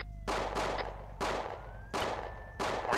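Four loud, sharp gunshots fired at intervals of about a second, each with a booming echoing tail. A faint tone rises and falls in the background.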